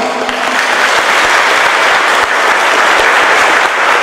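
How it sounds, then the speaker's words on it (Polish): Loud, sustained applause from a concert audience at an organ and chamber music festival in Biała Podlaska, many hands clapping densely and evenly for the whole stretch. "Ogromne brawa!"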